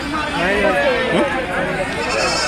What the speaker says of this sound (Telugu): ఇగో మేకలు ఉన్నాయి పిల్లలు ఉన్నాయి